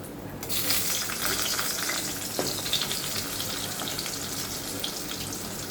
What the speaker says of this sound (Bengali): এই যে সবজিগুলো কেটে রেখেছি সেগুলোকে হালকা করে হলুদ নুন দিয়ে একটু ভেজে নেব। আমি প্রথমে পেঁপে ছাড়ছি